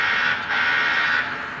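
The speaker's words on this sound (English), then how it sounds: "number 7 is the buzzer sound" A Lionel Legacy R27 subway set gives a steady electronic buzzer tone, held briefly with a slight dip in the middle, at moderate volume.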